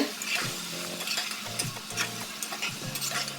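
A spoon scrapes and turns boiled pointed gourd and potatoes through a sizzling tomato masala in a pan, with a steady close fry hiss broken by several quick stirring strokes.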